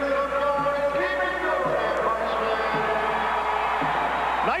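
Indoor arena crowd cheering and whooping at a 1993-94 NPSL indoor soccer finals game in St. Louis, a steady roar throughout with a sportscaster talking over it.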